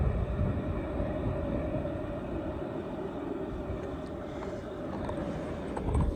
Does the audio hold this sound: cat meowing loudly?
no